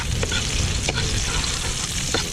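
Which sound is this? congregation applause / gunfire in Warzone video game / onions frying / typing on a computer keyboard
onions frying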